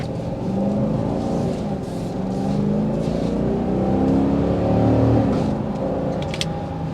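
A 2023 Dodge Durango R/T's throaty exhaust roars steadily as it accelerates in sport mode, the engine note climbing and swelling under constant load, loud and close from inside.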